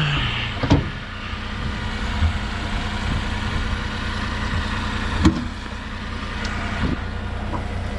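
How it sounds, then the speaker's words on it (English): A nearby engine idles with a steady low rumble throughout, broken by a few brief clunks and knocks, with no voices. "I thought I heard a car or something."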